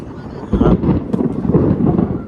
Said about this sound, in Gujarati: કેવું વીજળી પડી મિત્રો